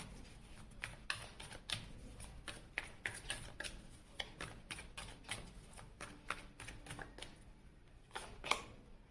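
A deck of tarot cards is shuffled by hand in a rapid run of crisp, papery riffles and taps. The sound is close and fairly quiet, with no voices.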